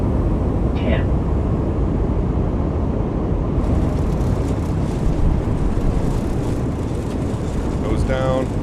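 Airbus A220 airliner in a flight simulator rolling out after landing, a loud steady broadband roar of engines and thrust reversers filling the cabin, with brief chimes near the end.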